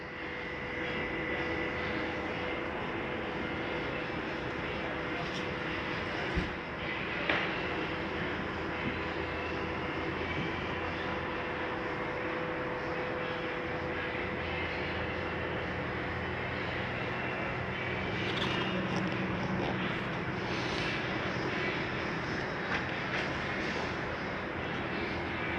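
A Flagstaff T21DMHW camper trailer lowers under its power lift motor: a steady, continuous mechanical drone that holds at an even level throughout, with a few faint knocks and clicks.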